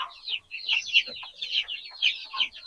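Chickens in a coop make a close run of repeated clucks and short squawks over the full stretch, several birds calling over one another with no voices.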